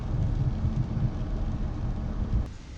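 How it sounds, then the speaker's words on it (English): Rain pours steadily at Mystic Seaport's boatyard, a constant dense wash of noise with low rumbling underneath, easing slightly near the end. "Yep, still raining."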